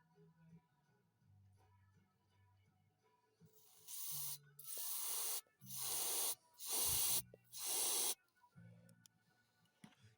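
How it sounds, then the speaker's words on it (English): Four loud, sustained bursts of carburetor cleaner sprayed into the carburetor of a Honda snowblower, each hiss lasting about a second with short gaps, close to the mic. A low engine hum runs underneath before and after the bursts. "And you want to spray in there."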